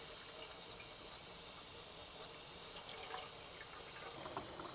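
Faint running water as a pot is scrubbed clean in a home kitchen, a soft continuous hiss with small splashes near the end.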